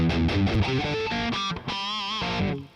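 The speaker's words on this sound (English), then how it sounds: "Echo crunch, I'm sorry. Echo crunch." Guitar through a Boss Katana MKII amp on an echo crunch preset with delay: a quick run of overdriven notes, then a wavering bent note that rings out with echoing repeats, loud and without voices.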